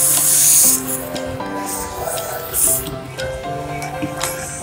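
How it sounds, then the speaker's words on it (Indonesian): Baking soda poured into vinegar in a bottle with a balloon fitted over the mouth, giving bursts of hissing fizz that rise and fall while people speak in the background. "Dan kemudian kita masukkan baking soda ya."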